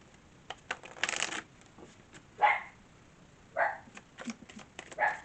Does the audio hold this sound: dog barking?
yes